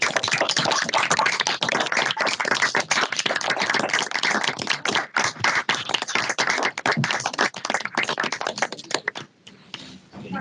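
Applause from an event audience fills the whole stretch, a dense, even patter of many hands clapping that thins out near the end.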